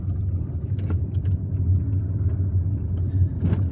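A car drives through the streets of Algiers, its engine a steady low rumble from inside the vehicle, with faint clicks and traffic noise and no voices.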